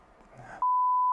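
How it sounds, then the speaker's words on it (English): A single loud, steady electronic beep from a device lasts about half a second, cutting in sharply after a stretch of quiet room noise and ending abruptly. "It beeped."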